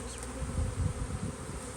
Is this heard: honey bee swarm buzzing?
yes